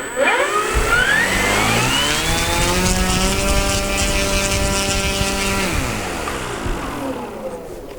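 Freewing P-51D Mustang RC model warbird's electric motor and propeller spinning up on a table during a throttle test, rising to a loud sustained whine with steady harmonics, holding, then winding down near the end.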